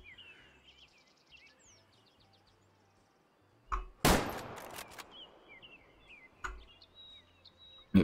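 A single loud rifle shot rings out in the hunting video game Way of the Hunter, aimed at a bighorn, followed by a trailing echo and a couple of softer thumps, with birdsong chirping in the quiet outdoor background.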